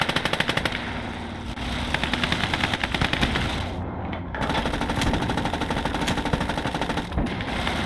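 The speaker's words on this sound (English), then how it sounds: "Is that PTRS fire?" Rapid, regular gunfire cracks in the WWII Eastern Front game Call to Arms Gates of Hell, a loud, continuous string of sharp shots with a brief lull midway, no voices.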